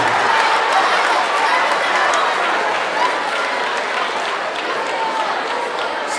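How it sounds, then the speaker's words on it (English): A crowd gives dancers a dense, steady round of applause that holds at an even level throughout, with scattered chatter mixed in. "round of applause for our dancers"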